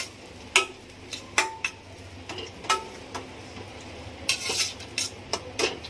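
Onions sautéing in a pan for a Mysore masala dosa filling, with a utensil clinking and scraping against the pan in scattered sharp taps over a low, steady background hiss.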